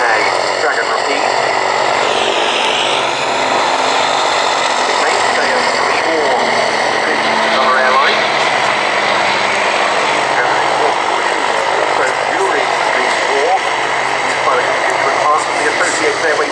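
A de Havilland DH-89A Dragon Rapide propeller aircraft flies over at an air show, its engine drone loud and steady throughout, with crowd and background voices faintly underneath.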